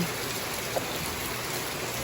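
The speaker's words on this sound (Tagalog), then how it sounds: "Ngayon naman po ay Grabe naman ang ulan." Heavy rain pours at a house construction site in a steady, loud, unbroken hiss with no breaks and no voices.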